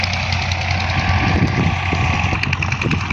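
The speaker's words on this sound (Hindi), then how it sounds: "एक ट्रैक्टर ये चल रहा है ये रोटर फेटर फेर रहा है" Tractor pulling a rotavator through a wheat field: a loud, continuous engine drone with rattling, knocking mechanical clatter, steady and close throughout.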